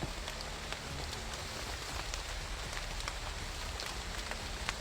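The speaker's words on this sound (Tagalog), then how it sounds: "Kahit malakas nila itong ulan." Heavy rain falls in a steady, dense hiss with scattered sharper drops striking nearby surfaces, loud and continuous with no voices.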